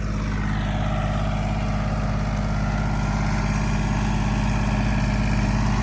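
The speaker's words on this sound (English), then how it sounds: "I know that you guys don't want to sit here and watch Ben drive a tractor" A tractor engine runs at a steady idle-like rumble, close and continuous, with a strong low throb and no voices.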